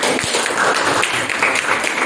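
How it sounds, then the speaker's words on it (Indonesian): A classroom full of students applauds a group, a steady, dense patter of many hands clapping together for a couple of seconds. "berikan tepuk tangan untuk kelompok ini"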